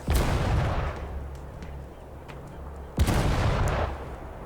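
Heavy booming cannon blasts with rumbling echoes in the VR game Sniper Elite VR, one big burst at the start and another a few seconds later, over a gritty battle ambience.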